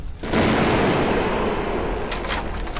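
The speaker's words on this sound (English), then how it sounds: "Suddenly, there's a sound of a huge explosion." A huge bomb blast during the 26/11 Mumbai attacks arrives as a loud, sustained roaring boom that swells quickly and rumbles on without fading, with no voices over it.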